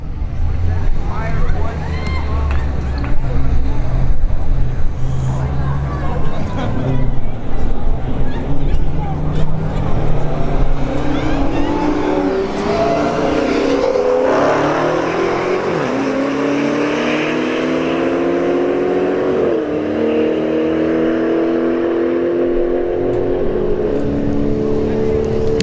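A Dodge Charger Hellcat and a BMW M3 drag race at a street-heat event, two engines roaring loud and near, rising in pitch as they accelerate down the strip, with commentary over the top.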